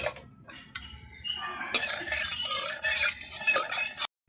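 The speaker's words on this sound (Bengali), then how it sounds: "আমি ডিমের অমলেটগুলো ভেজে নেব এক এক করে" Oil heating in a wok before egg omelettes are fried one at a time, with clinks and scraping of a utensil against the pan and a soft sizzle building through the clip; no one speaks.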